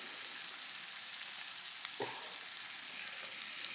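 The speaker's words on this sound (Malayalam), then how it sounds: "ഇനി രണ്ടാമത്തേയും കൂടി വറക്കട്ടെ" Mackerel sizzles steadily in hot oil, a continuous crackling hiss with a single soft clunk partway through.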